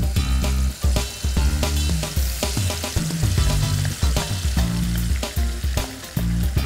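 Marinated mutton pieces frying in hot oil, a loud dense sizzle close by with repeated clattering thumps and scrapes from the pan, no voices.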